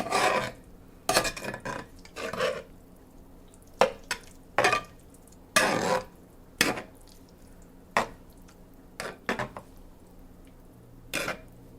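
A pepper mill grinds fresh black pepper over sausage gravy in short, scratchy rasping bursts, about a dozen uneven twists with brief pauses between them, close and clear.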